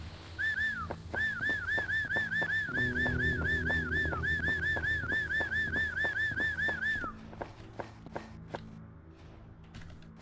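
Chocobo call in a video game, a repeated high warbling chirp in a quick steady series for several seconds, fairly close, then fading out into quieter clicks and taps.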